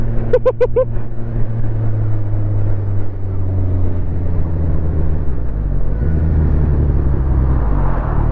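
A Suzuki Katana motorcycle engine runs at a steady low idle, a loud continuous rumble close up, with a short burst of tonal beeps at the start.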